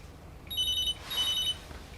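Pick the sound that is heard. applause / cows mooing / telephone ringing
telephone ringing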